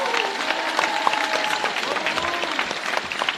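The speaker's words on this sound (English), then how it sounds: "Clap it up, clap it up" An audience claps at a remembrance event, steady crowd applause mixed with voices and a lively hubbub throughout the short stretch.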